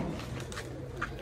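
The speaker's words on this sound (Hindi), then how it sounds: "ये दोस्तों टैडी कबूतर" Teddy pigeon cooing softly at close range, low throaty coos running steadily over a dense background of other birds and faint chirps, with no voices.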